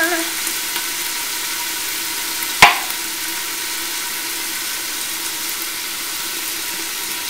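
Onions frying in a pan for marinara sauce, a steady hissing sizzle throughout with a single sharp clink partway through.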